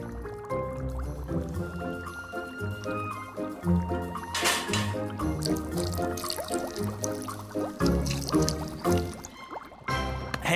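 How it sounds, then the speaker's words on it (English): Water is poured out of a pasta pot, a sustained liquid gushing and splashing with drips that runs for several seconds over a tonal musical background. "I need something to get the water out of the pot."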